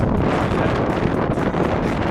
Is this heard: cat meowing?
no